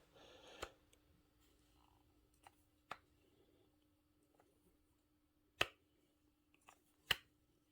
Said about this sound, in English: let's check with the heavy duty trusty Craftsman torque wrench